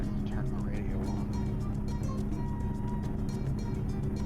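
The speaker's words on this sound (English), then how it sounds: "I thought I turned down the engine just enough, but nope, it's still too loud." A truck engine in a driving video game drones steadily at a low, even pitch under continuous talking throughout.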